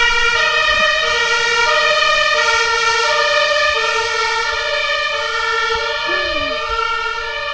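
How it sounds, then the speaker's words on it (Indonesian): A fire engine siren wails loud and close as it passes near Treptower Park in Berlin. Its steady, layered tone holds through the whole stretch while traffic rumbles faintly underneath. "ada pemadam kebakaran lewat."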